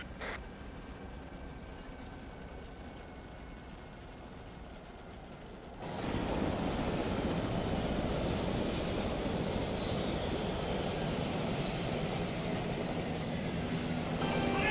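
A Chinook helicopter in a military video game: a low, continuous rotor and engine drone that swells sharply about six seconds in and then holds steady and fairly loud to the end.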